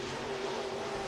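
Race cars roar through a heat at Lee County Speedway, a continuous, buzzing engine drone held steady and loud with no break.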